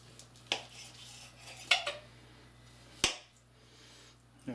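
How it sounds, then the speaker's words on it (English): A knife works through a smoked turkey breast on a board, cutting it into thirds: a few sharp, separate clicks and knocks against the board, with quiet stretches between them. "I'm going to cut this into thirds."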